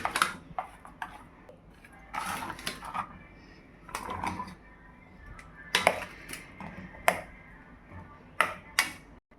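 Chopped bottle gourd being mixed into curd in a bowl, with a spoon scraping and clinking against the dish in irregular taps and knocks, fairly close.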